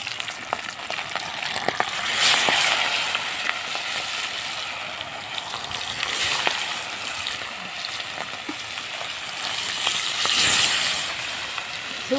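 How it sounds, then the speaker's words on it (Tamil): Large fish pieces fry over a wood-fired stove, giving a loud, continuous sizzle and crackle that swells and eases several times, with scattered sharp pops throughout. "விறகடுப்பு, மீன் வறுவல்."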